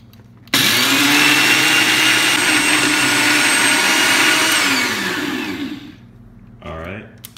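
A blender pulses ingredients for homemade Dubia roach chow: one loud, steady motor whir runs about five seconds, then winds down and fades, with a short voice-like sound just after.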